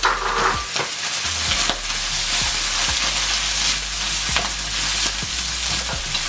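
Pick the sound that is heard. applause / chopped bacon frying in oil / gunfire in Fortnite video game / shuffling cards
chopped bacon frying in oil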